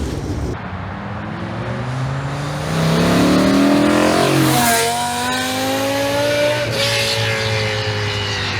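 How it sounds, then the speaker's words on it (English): A V10 Lincoln with a modified canister roars past in a flyby, the engine note swelling as it approaches, peaking with a sharp rising wail and falling away, then revving again, loud and alone. "We're gonna do a flyby the same way we did with the exhaust, but this is as the car was at SEMA."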